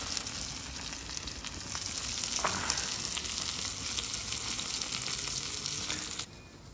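A ribeye steak sizzles and spits inside an Ooni Koda 16 outdoor pizza oven, a steady close frying hiss that carries on evenly and then stops sharply near the end.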